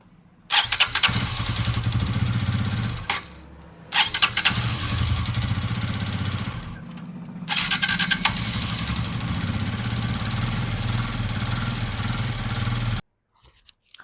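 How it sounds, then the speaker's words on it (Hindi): A Hero Karizma XMR 210 motorcycle fires up on its self-starter, engine running in close bursts that cut out and restart a few times before shutting off, with no talk over it. "देखिए एक सेल्फ दबाए, बाइक फाइनल हमारा स्टार्ट।"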